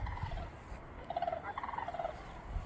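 Wild birds call nearby with bursts of rapid, bubbling gobbling notes over a faint low rumble.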